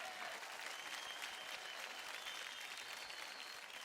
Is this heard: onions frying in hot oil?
no